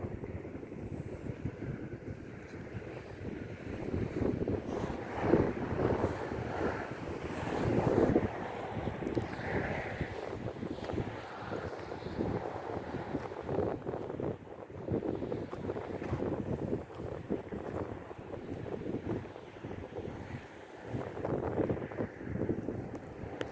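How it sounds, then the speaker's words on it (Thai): Steady wind blows across the microphone outdoors at a lookout, a continuous rushing roar with gusts that swell and ease over the whole stretch. "อากาศดีลมดีนะคะ"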